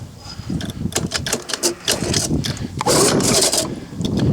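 The recoil starter on a Lawnboy 19 lawn mower is yanked again and again, each pull a rough, rasping burst at close range. The pulls come in an uneven rhythm and the engine never settles into a run.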